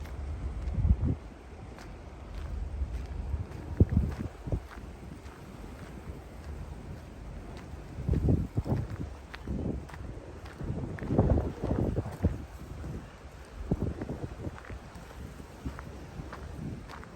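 Wind blows outdoors near a beach in the Philippines, coming as rough, rumbling gusts against the microphone that swell and ease irregularly throughout.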